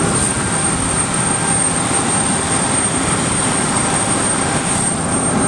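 Propeller airplane engine drone heard from inside the cabin in flight, a loud steady roar with a constant high whine, unbroken and without talking.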